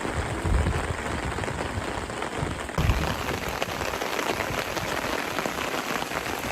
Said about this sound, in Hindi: तेज बारिश हो रही है अभी